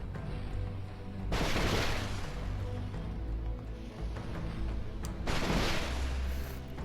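Heavy cannon fire in the mech tactics game Phantom Brigade: two loud broadband blasts roughly four seconds apart, each followed by a rumbling decay, over a constant low engine drone.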